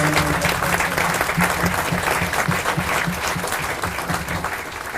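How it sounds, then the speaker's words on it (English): A military audience at a 2019 change of command ceremony gives a round of applause, loud and dense. A low tonal hum runs beneath the clapping, which tapers slightly toward the end. "If you please join me in another round of applause on their behalf."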